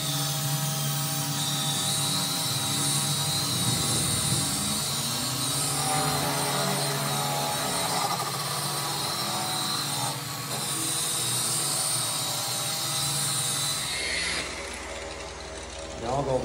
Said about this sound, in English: now that I got it to that point, I will start buffing it out